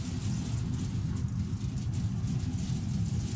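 Car engine in a racing simulator game, a low, steady rumble droning continuously and fairly quiet throughout with no one talking.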